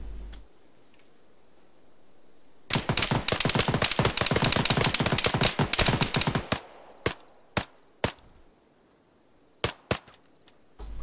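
Gunfire cracks out in an Arma 3 firefight: a long, rapid stream of sharp, loud shots for several seconds, then scattered single reports spaced apart, all close and crisp against a quiet background.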